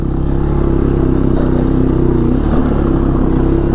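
Honda Fourtrax 300 ATV engine pulling a trailer off road in first gear, a steady loud low-pitched drone with a continuous mechanical clatter and slight rises in revs, close by and alone throughout.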